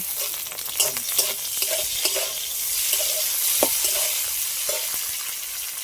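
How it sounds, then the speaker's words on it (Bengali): Lightly fried onions and four or five torn green chillies sizzle in a pan, a steady hiss broken by repeated scraping stirs and small clanks of the spatula against the metal, close and without talk. "পেঁয়াজগুলো ভেজে নিয়েছি হালকা করে এবার চার পাঁচটা লঙ্কা এভাবে ছিঁড়ে নিয়েছি এটা দিয়ে"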